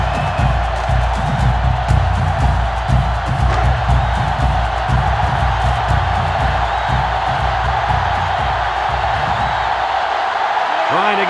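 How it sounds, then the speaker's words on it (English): A large crowd in a college football stadium, in a UCLA versus 1961 Alabama video game. It gives a continuous loud roar with rising cheers and whoops, and a commentator talks over it. "the defense is doing their best to fire up this crowd"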